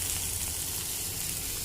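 Steamed vegetables frying in a pan for a vegetable and sweet potato salad, a dense, loud, continuous sizzle close by with no talking.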